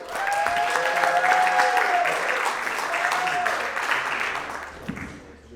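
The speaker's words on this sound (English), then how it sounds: "Keep your energy going, keep clapping" A comedy-club audience claps steadily and loudly after a comedian's set, a sustained wash of applause with a few whoops and a host's voice rising over it before the clapping thins near the end.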